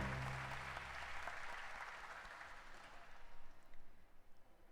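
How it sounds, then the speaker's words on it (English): Steady audience applause fills a hall at a school choir night, loud at first and slowly thinning out, with no voices over it. "Please welcome the Galaxy Junior Choir and our music gurus with a loud round of applause"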